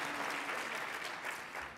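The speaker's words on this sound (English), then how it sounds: "A round of applause for that." Audience applause at a city's State of the City address, a steady wash of many hands clapping that holds fairly even throughout and fades slightly at the end, with no voices over it.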